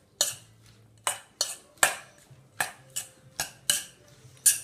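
A spoon clinks against a bowl while stirring a salmon and endive mixture, giving about nine crisp, evenly spaced taps over a faint low hum.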